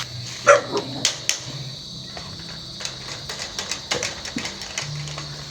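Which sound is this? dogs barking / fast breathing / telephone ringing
dogs barking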